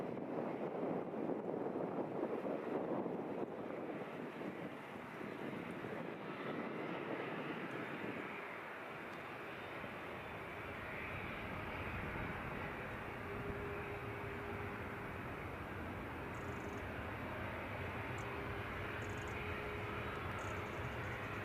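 An easyJet airliner arriving at Edinburgh airport from Amsterdam, a distant, faint engine rumble rising and lingering against wind noise on the microphone.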